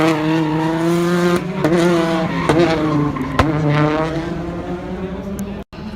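A Citroën DS3 R5 rally car accelerates hard from the start, its loud engine climbing steadily through the gears with a sustained harmonic roar, close and dominant, with crowd or announcer speech faintly underneath.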